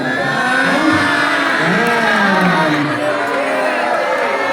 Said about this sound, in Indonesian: Tepuk tangan dulu dong untuk CGV Indonesia